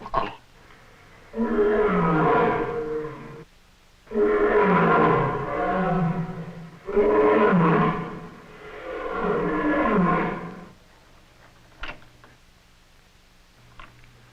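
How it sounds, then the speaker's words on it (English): A male lion's roar played back from a portable tape recording in open wild territory: four long, loud rumbling roar bouts with short pauses between them, followed by a few faint clicks. "First, I recorded the roar of a male lion in one territory."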